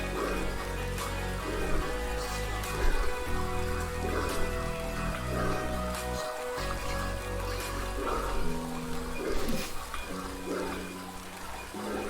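Rain in the cycling video game Zwift on a flat Greater London route, a constant soft patter and hiss of drops layered over a steady game soundtrack, close and even throughout.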